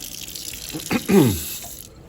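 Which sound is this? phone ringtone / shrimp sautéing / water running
water running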